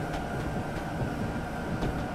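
An M8 electric multiple-unit train runs steadily in a train simulator game, a continuous close rumble of rolling wheels and traction hum with no talk.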